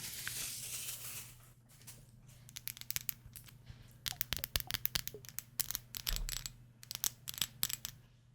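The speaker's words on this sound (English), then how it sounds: "Strange enough, it comes in a plastic bag for some reason." A plastic bag holding perfume packaging crinkles close up in a quiet, whisper-level setting, with bursts of sharp crackles and rustles coming in irregular clusters.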